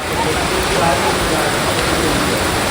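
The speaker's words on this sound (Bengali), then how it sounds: "উপকূলে বৃষ্টির দিনে মানে এই মেঘ এই বৃষ্টি" Steady rain falling in a coastal village, a dense even hiss close to the microphone with no breaks and no voices.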